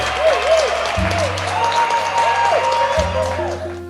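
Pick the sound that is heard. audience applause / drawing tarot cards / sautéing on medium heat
audience applause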